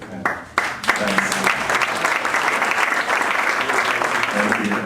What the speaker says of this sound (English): Let's give one more big round of applause to Kevin Gillespie.